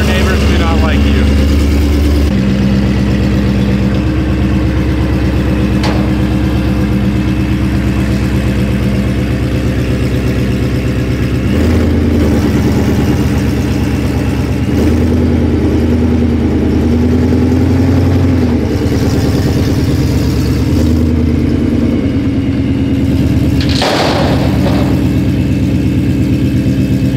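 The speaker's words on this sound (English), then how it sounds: "This is the loudest car I've ever heard in my entire life." A very loud car engine idles close by with a deep, steady rumble throughout, the noise loud and sustained, in a home garage setting while someone talks over it.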